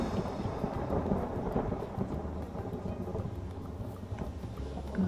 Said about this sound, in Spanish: Uy, tormenta. Jo, pedazo de tormenta.